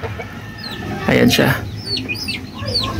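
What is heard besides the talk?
native chicken clucking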